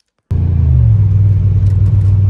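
Dodge SRT4 engine while driving, a sudden onset of steady, loud low rumble from inside the car that holds a constant drone without speech.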